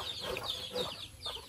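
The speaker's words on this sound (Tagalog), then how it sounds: "Mga pinalanggang manok niya diri guys" Farm chickens cluck softly in short, irregular bursts, close by and moderately quiet against a low background hum.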